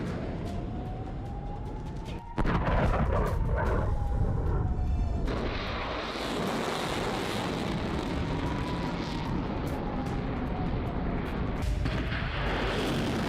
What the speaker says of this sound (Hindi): धमाके, मिसाइल अटैक, ड्रोन से हमले, तबाही का मंजर।